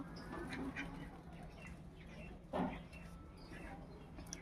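A duck quacks once, fairly near, over a steady background hum with faint murmuring.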